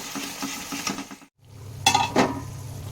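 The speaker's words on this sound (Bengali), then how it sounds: "যতক্ষণ না তেলটা ছেড়ে যাচ্ছে ততক্ষণ মশলাটাকে ভালো করে কষিয়ে নেব।" Spice paste with chilli powder is stir-fried in oil in a pan, with soft sizzling broken by a short gap and then sharp clinks and scrapes of a spoon against the pan.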